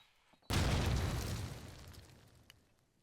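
A single loud grenade blast in a first-person shooter game, a sudden booming burst that hits hard and then fades out over about two seconds.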